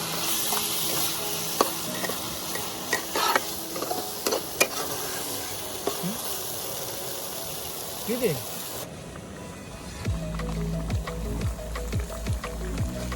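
Spices and mutton paya fry in a pan while being stirred, giving a soft sizzle with scattered scraping clicks and a brief muffled voice partway through.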